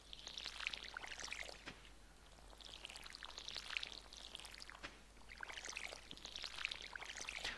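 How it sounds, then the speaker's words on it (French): A watering can being filled with water in the video game Stardew Valley, three soft, quiet pouring swells in an even rhythm. "On va remplir l'arrosoir."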